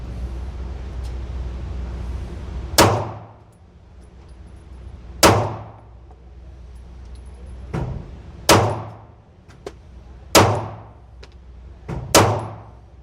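A pistol fitted with an enclosed green-dot sight fires at a target outdoors: six loud, sharp shots at uneven intervals, each cracking and then ringing away, with quiet pauses between.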